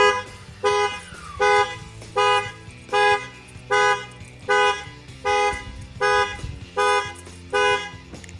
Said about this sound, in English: when the factory alarm goes off, it locks the brakes